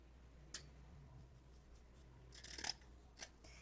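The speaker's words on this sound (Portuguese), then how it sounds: "Vou cortar essa sobra do meu elástico." Scissors snip off leftover elastic while trousers are being sewn, a single crisp cut followed by a cluster of sharper closing snips, close and clear against a quiet room hum.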